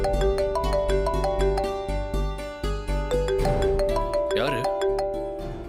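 A mobile phone rings with an incoming call from an unknown number, a loud repeating melodic ringtone that keeps chiming steadily while someone briefly speaks over it.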